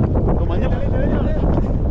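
Strong wind gusting across the misty Ponmudi hilltop, loud buffeting rumble against the microphone, with a voice talking over it.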